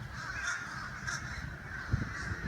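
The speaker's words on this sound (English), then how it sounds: "Why are there so many blackbirds?" A flock of blackbirds calls in the distance, a continuous chorus of harsh, overlapping caws and chatter at moderate volume.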